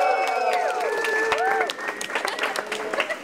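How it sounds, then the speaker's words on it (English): Crowd applause at the Fossil of the Day Awards during the COP17 climate talks in Durban, clapping and cheering under a tonal whistling or sung sound at the start, the clapping thinning toward the end. "Round of applause, ladies and gentlemen"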